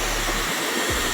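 A hair dryer on high heat and high airflow blows steadily during a men's textured styling, a loud continuous broadband whoosh with a brief dip in its low rumble partway through.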